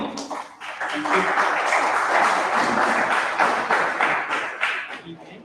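Audience applause at an all-India debate competition, a full crowd clapping at close range with overlapping voices and cheers mixed in, rising quickly and holding strong before tapering off near the end.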